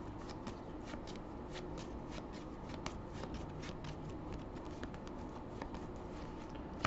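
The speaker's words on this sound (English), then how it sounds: "Do the shuffle." A deck of playing cards being shuffled during a trading card game session, with a steady, continuous riffling patter of close card flicks lasting several seconds and no talking.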